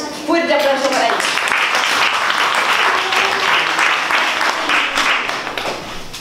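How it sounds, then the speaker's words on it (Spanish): Applause fills a cultural association gathering, a loud, steady crowd clapping that lasts several seconds, with a voice speaking briefly at the start over it. "Fuerte aplauso para ella."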